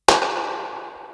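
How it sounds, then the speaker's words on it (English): A single sharp hand clap with a reverb effect starts with a bright transient, and a long, smooth reverberant tail decays for about a second. No voices. "So with reverb, our clap would sound like this"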